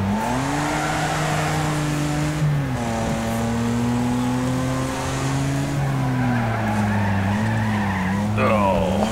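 Cars slide and skid through corners in the Wreckfest racing game, with a continuous loud engine drone rising and falling in pitch and tire squeal throughout, alone without talk.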